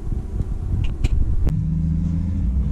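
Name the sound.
2017 Ford F-250 Powerstroke pulling off while towing a trailer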